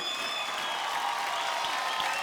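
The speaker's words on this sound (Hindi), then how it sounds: "जोरदार तालियां और तालियां बजती रहनी चाहिए।" Steady applause from the audience at a folk singing show, a dense wash of many hands clapping at moderate volume throughout, with no clear break.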